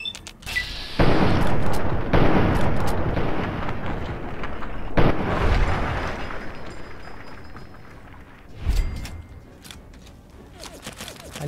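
Mutants firing weapons in Fallout 3 produce repeated booming blasts and a rolling, rumbling barrage, loud and close with several sharp hits; no speech.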